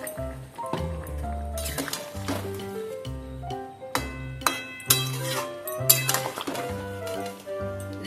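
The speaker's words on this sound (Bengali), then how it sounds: "এখন আমি দেব 1 চামচ ঘি, দিয়ে এখন আমি নেড়ে চেড়ে নামিয়ে দেব।" Ghee stirred into Bengali shukto in a pan, with a spoon clinking and scraping against the metal in uneven bursts over a soft sizzle, close and fairly loud.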